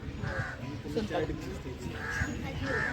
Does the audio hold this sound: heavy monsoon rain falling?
no